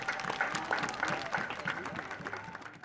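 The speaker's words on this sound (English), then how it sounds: "Round of applause for Scott Lowry." Crowd applause ripples through the stands at a high school lacrosse game between Fleming Island and Sandalwood, steady scattered clapping over nearly three seconds with voices mixed into the noise.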